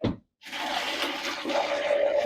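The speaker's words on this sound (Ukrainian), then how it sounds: "Маринад у мене закипів, виключаю і заливаю сливи." Hot boiled marinade poured from a pot over plums in a container, a steady close splashing gush of liquid after a brief pause, with no talking.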